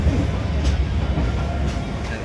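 A passenger train rolls along with a steady, loud low rumble and constant rattling throughout, with faint voices mixed in.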